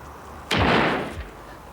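Coal dust ignites in a small, non-violent explosion, a single sudden whooshing burst that lasts under a second and then fades, heard alone against a quiet background.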